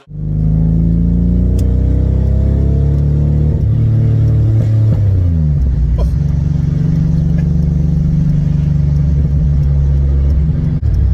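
A loud 2002 Pontiac Firebird engine rumbles close by, its deep exhaust note shifting pitch as it revs down and back up, continuous and throaty.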